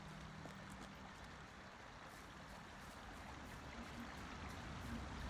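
A waterfall in the video game LOTRO, a faint, steady broadband rushing of falling water that continues without break.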